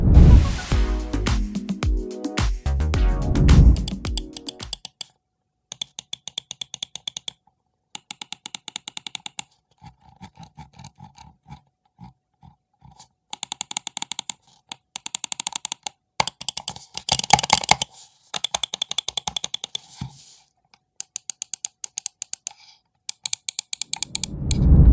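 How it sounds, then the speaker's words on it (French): Side buttons on an ATK A9 Air computer mouse clicking, with a burst of louder handling noise first, then scattered sharp plastic clicks in short clusters separated by silence, close and alone. "écoutez le bruit des clics latéraux"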